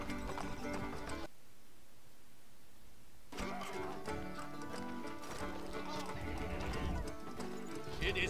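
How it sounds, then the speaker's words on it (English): Horse hooves clip-clop steadily with a neigh, amid Stronghold Legends game music and effects, with a brief quiet gap before the sounds resume. "The horse!"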